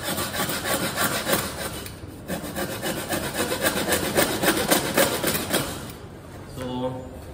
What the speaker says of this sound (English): I'll use the saw to further saw it inwards again just to create that starting point.